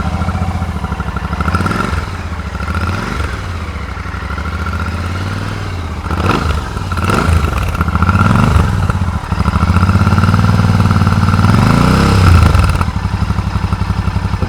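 An air-cooled Royal Enfield motorcycle idling close by, a loud steady thumping exhaust rumble with a few throttle blips swelling and falling over fourteen seconds.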